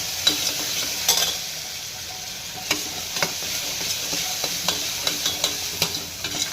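Ground masala paste is stirred into fried onions in a pan, a steady soft sizzle broken by regular scraping clicks of the spoon against the pan, close and moderately quiet, with no talking.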